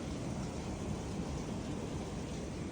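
Hailstorm with heavy rain and thunder, a dense, steady roar of pelting precipitation that stays loud and even throughout, with low rumbling underneath and no voices.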